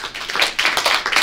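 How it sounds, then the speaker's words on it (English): A small audience at a leadership talk gives a short round of applause, close and bright, with hand claps bunched in quick uneven bursts. "Give her a round of applause."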